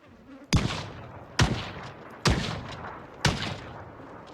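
Four sharp, loud rifle shots from an MSR-7T in the Project Zomboid video game, spaced roughly a second apart, each with a brief echoing tail and no talk.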